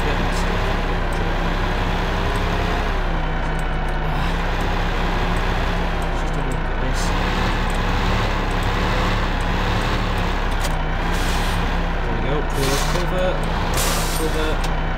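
A heavy truck engine in the Farming Simulator 15 video game drones steadily throughout, a constant low rumble with faint hiss, while someone talks over it.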